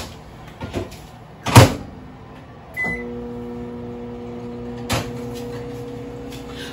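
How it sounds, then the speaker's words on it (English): A door thump, then a steady microwave hum with a bright tonal whine starts and runs on while heating chocolate, with another clunk near the end. "So now I'm putting it in the microwave for 30 seconds."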